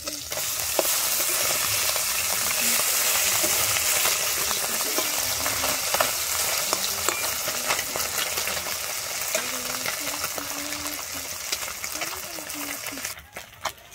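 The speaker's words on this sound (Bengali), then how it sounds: "এই পুঁটি মাছটাকে কিন্তু খুব লাল করে কিন্তু ভেজে নেবো।" Puti fish fry in a pan with a loud, continuous sizzle and spatter, broken by faint scraping as the fish are turned, then a couple of sharp clicks right at the end.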